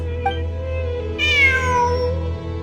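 A cat meows in Genshin Impact over a low steady background hum, with a short chirp first and then one longer, drawn-out meow that falls in pitch.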